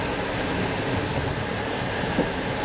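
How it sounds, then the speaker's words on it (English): Inside a sleeper carriage running from Bucharest to Chisinau, the train gives off a continuous heavy rumble with rattling, plus a brief knock near the end, loud and steady, with no voices. "It's a wee bit bumpy on this train."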